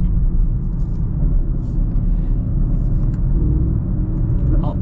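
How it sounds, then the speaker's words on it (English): Mercedes-AMG GLC 63 S performance SUV exhaust in race mode, a steady, loud, deep throaty rumble with burbling texture, heard continuously from inside or near the car without talk. "I love AMG exhausts. Oh, it sounds so good."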